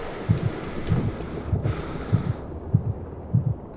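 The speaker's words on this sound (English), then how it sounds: "And the heartbeat comes up." Steady heartbeat thumps pulsing in pairs, about six beats, during intense climbing exertion in the video game Jusant, muffled under a low-passed wind-like ambience.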